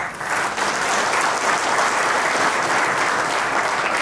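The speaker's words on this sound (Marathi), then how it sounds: "एकदा जोरदार टाळ्या होत्या." Loud, dense applause from a large audience, steady and sustained from start to finish with no voices standing out.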